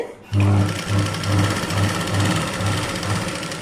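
An electric sewing machine stitches a hem on a 36-inch blouse, starting abruptly and running at a steady fast rhythmic chatter, close and loud throughout.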